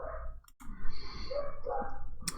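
Agitated household dogs bark and whine nearby after someone steps outside, a restless stretch of yips and muffled barks with a brief pause early on, with no talking.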